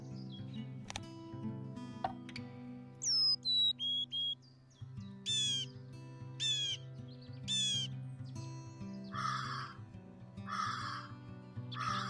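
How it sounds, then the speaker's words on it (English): Recorded birdsong from the Wingspan digital board game: several bright chirps and warbling phrases in short bursts over a steady, soft musical background. "We can hear the bird singing."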